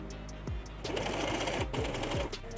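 A sewing machine stitching lace onto a tiered skirt, its motor whirring in short close bursts with rapid needle clatter, starting and stopping across a quiet room.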